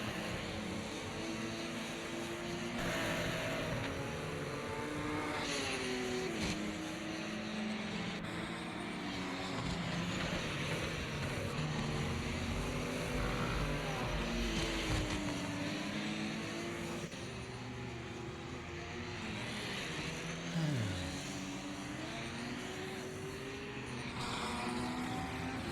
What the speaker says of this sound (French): le pilote de la Gillette Vertigo numéro 105 qui est en piste pour l'instant